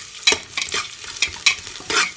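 Kerala-style mutton curry sizzles in a pan as chilli flakes go in. A spoon scrapes and stirs in quick, uneven strokes over a constant close fry, with no talk.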